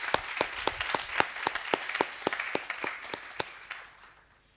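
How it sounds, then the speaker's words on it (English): Audience at a South African book launch applauds, a scattering of distinct, sharp claps in a loose rhythm that gradually thins and fades out over a few seconds, with no talk. "let's just give those people a round of applause"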